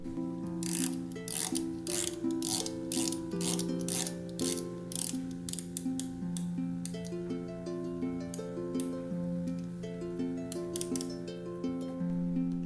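A 120-click unidirectional bezel on a Tuna-style G-Shock watch is turned in quick runs of crisp ratcheting clicks, close and fairly quiet, over soft sustained background music.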